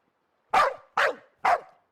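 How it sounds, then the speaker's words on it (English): A dog guarding a pier in the video game Dark City: Amsterdam gives three sharp, evenly spaced barks, close and clear against silence. "just ignore the dog. He's taken up residence on the pier and thinks it's his job to guard it."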